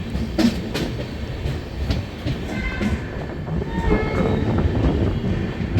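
The Mahakaushal Express rolls into Kosi Kalan, a loud, close rumble of wheels and carriages with clickety-clack beats and a faint horn-like tone partway through.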